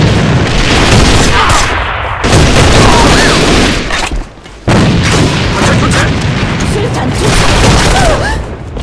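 Grenade blasts and dense gunfire in the shooter game A.V.A, a loud continuous barrage of booms and shots with a brief lull in the middle, and voices calling out beneath the noise.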